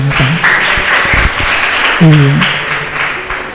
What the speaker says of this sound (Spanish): ¿Cuánto le da un aplauso al Señor, hermano?